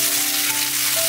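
Slices of gluten sausage pan-fry in oil until partly golden, giving a close, steady, even sizzle with no talk.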